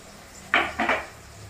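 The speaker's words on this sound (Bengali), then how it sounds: "সবার আগে আমি এখানে কড়াতে দিয়ে দিচ্ছি পেঁয়াজ" Sliced onions drop into a kadai for frying, giving two quick, close clattering knocks about a quarter second apart over a quiet background.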